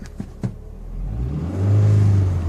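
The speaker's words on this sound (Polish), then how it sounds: "Silnik chodzi, zresztą chyba słychać. Słychać pewnie buczenie." A car engine idles with a low hum, then revs up into a louder, steady drone; a few faint clicks come first.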